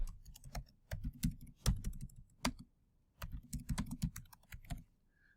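Typing on a computer keyboard in Microsoft Office 2016: two bursts of steady, close keystrokes separated by a short pause, with no talking.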